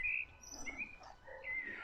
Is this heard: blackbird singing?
yes